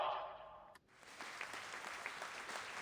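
Applause from a crowd at an opening ceremony in the game Reverse: 1999, a soft, steady patter of clapping that rises after a brief lull and continues faintly throughout.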